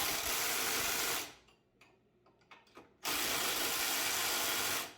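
A ratchet wrench works on a plow in two bursts of dense mechanical clicking, each well over a second long, separated by a quieter gap of scattered clicks and knocks.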